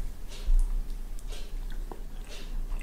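Someone eating warm German rice pudding with raisins and cinnamon, with soft, wet chewing and mouth sounds close to the microphone over a low background hum and no talk.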